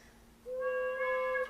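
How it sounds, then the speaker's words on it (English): An unvoiced principal organ pipe with a tiny toe hole lets through little air, giving a thin, airy tone. It starts abruptly after a quiet lead-in and holds steady with overtones for about a second before cutting off. "So this is an unvoiced pipe"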